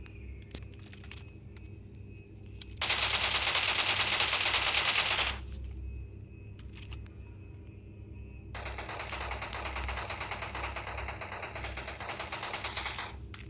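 Video game gunfire comes as two long bursts of rapid automatic shots, loud and continuous, separated by quieter stretches with a low background drone and occasional clicks.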